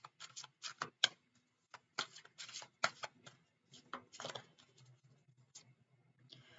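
An angel answer oracle card deck is shuffled by hand in quick, irregular bursts of soft flicking and tapping, faint and close, with brief pauses between the shuffles and no talking.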